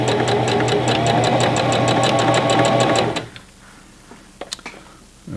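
A Singer Classic Heavy Duty sewing machine stitches test seams at speed, a loud steady close rapid needle clatter for about three seconds, then stops, leaving faint handling clicks.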